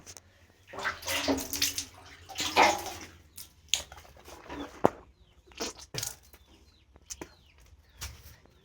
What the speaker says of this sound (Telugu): కొంచెం నీళ్ళు ఇచ్చి పోసుకోవాలి